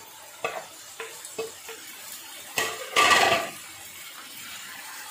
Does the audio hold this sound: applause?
no